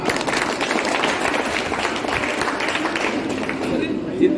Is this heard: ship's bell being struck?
no